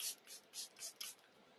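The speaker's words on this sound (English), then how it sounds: "So we just spray this over the face" Makeup setting spray misted over the face in five short, soft spritzes with pauses between them, faint and close, with no talking.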